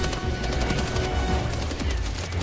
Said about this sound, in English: That's an artillery barrage.